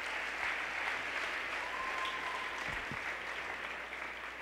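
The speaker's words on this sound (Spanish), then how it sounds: "Un aplauso a Dios." A church congregation at a conference applauds, a steady wash of clapping from many hands at moderate distance, with no break across the whole stretch.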